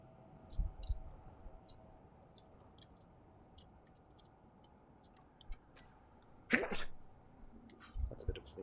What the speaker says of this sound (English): That's a bit of a sneeze.